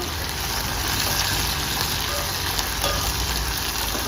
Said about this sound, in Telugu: బాగా పోపు అనేది మంచిగా వేగిపోయింది